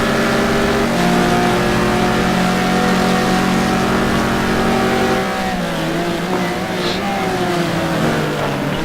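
Several GT2 race cars, including a Mercedes, roar along the Yas Marina straight in a racing video game, their engines revving loudly and continuously as they shift gears and howl past in a close pack.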